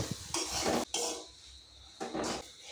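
Half-ground moong dal stirred together with dry spices in a pan for a kochuri filling, with a few distinct bursts of a utensil scraping and clinking against the metal, separated by brief pauses.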